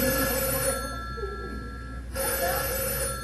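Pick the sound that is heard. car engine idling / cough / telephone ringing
telephone ringing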